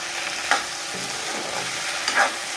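Eel (kuchia) frying in a pan, a steady soft sizzle with two brief scraping stirs of a spatula, close and moderately quiet, no speech.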